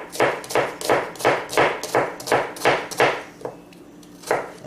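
Knife chopping through an onion on a cutting board while preparing chicken pot pie, a steady run of about ten crisp, close chops in a quick even rhythm, a short pause, then one more chop; no talking.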